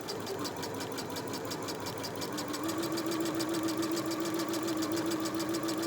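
Sewing machine stitching knit fabric with a twin needle, a steady, rapid mechanical whirring hum with fine repetitive ticking, running continuously and picking up slightly in speed partway through.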